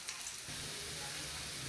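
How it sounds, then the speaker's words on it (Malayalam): Finely chopped ginger and mustard seeds hitting hot coconut oil in a pan, producing a soft, steady crackling sizzle that stays quiet throughout with no speech. "നമ്മളൊരു വലിയൊരു കഷ്ണം ഇഞ്ചി പൊടി പൊടിയായിട്ട് അരിഞ്ഞെടുത്തത് അതിനെ ഇതിനകത്ത്"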